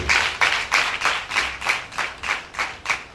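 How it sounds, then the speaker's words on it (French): A church congregation at a Sunday service claps together for God in a steady, even rhythm, about three claps per second, fairly close and with no talking over it. "Acclame fort pour Dieu."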